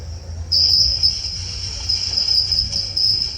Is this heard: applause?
no